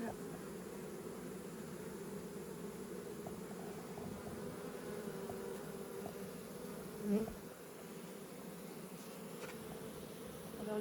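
Honeybees buzz around a hive during a seasonal move of the hives, a continuous close drone with one brief louder swell partway through.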